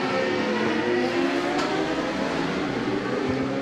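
Classic and clubman racing motorcycles launch from the start line, a loud, continuous, dense roar of several engines accelerating hard together.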